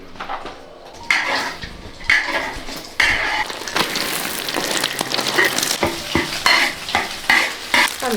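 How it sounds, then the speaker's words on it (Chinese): Farm eggs crackle and sizzle in pork lard in a wok, loud and close, as a metal spatula scrapes and clanks against the pan in repeated strokes. No one speaks. "下鸡蛋。"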